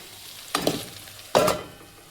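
Onions browning in a pan for spicy dal give off a steady sizzle, broken by two bursts of louder frying and stirring close by, no talk.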